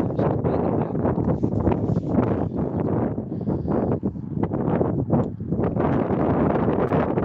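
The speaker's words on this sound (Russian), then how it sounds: "Да, постоянный ветер, ребята, постоянный ветер." Gusty wind buffets the microphone in rough, uneven bursts during a river ice drift in Yakutsk in May, a constant low roar that swells and dips throughout.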